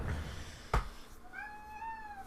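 A domestic cat gives a single drawn-out meow, close and fairly quiet, rising then settling, after a brief thump, with no talking.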